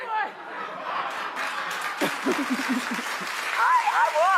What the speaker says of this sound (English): Ladies, clap if you would wear this in the streets.